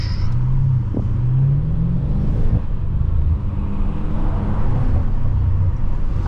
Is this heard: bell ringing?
no